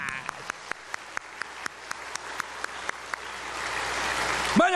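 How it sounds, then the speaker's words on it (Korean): A church congregation claps in unison during a Korean sermon, sharp evenly spaced claps repeating at a brisk, steady beat, slightly distant, with a swell of noise near the end. "두 전쟁 다 이기게 됨을 지금이라도 우리 박수로 또 한번 축하하고 환영합시다."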